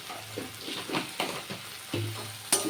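Whole spices, cardamom, cloves and cinnamon, sizzle and crackle in hot oil in a pan for a pangas fish curry, with bursts of frying and occasional stirring scrapes, close and steady with no talk.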